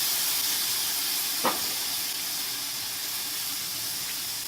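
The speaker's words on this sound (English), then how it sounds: "We're just going to grill them straight up old school, right over direct heat" T-bone steaks sizzle over direct heat on an inexpensive Old Smokey charcoal grill, a steady close hiss that fills the whole moment, with a single brief clink partway through.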